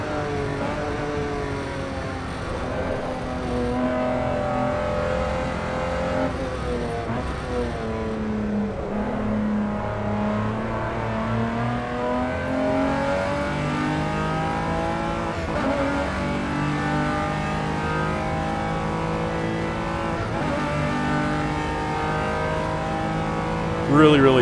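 A race car is driven hard in Assetto Corsa EVO. Its engine note climbs and falls through the gears at a steady, moderate level, with faint tire noise, and someone talks over it throughout.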